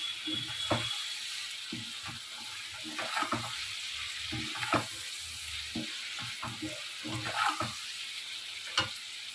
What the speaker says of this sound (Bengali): দিয়ে এবার একটু নাড়াচাড়া করতে হবে এরকম।